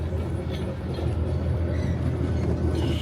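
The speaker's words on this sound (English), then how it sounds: "Here's a train." A narrow gauge train passes on the shore of Casco Bay, Maine, heard from a boat as a steady low rumbling roar mixed with wind and engine noise, even in loudness throughout.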